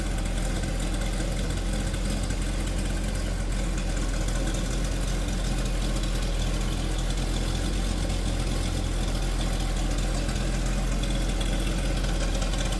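A 1968 Chevrolet Corvette coupe's 327 V8 engine idles with a steady, deep rumble and a faint irregular lope, close and constant throughout, no voices.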